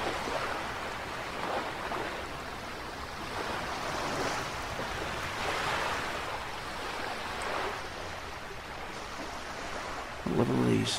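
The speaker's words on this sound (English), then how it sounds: "Oh, this is the water here. It's making so much noise." Loud, continuous water noise in the Archlord 2 video game: a rushing, surf-like wash with slow swells in intensity, steady throughout with no talking.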